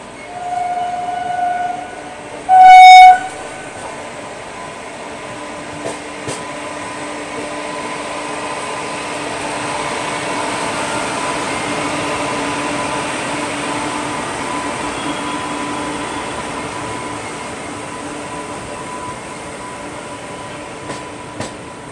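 A passenger train overtaking another train gives one short, loud horn blast near the start, followed by a steady rolling rumble of the moving train.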